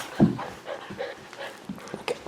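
A young retriever dog pants quickly after fetching a duck wing in training, with short huffing breaths and a small whimper, close to the microphone.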